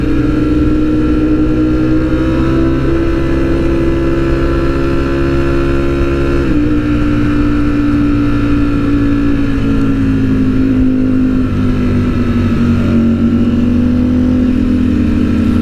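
Two Ducati motorcycles, a Panigale V4R and a Streetfighter V4S, ride together with their V4 engines droning loud and close, holding a steady pitch with slight shifts throughout.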